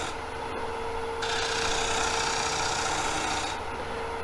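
A fingernail-grind gouge cuts a rainbow poplar bowl spinning on a lathe, giving a steady, close, broadband rasping hiss that swells in intensity through the middle of the cut and eases near the end, with no talking.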